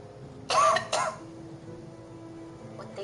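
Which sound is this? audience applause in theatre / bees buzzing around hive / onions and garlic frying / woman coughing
woman coughing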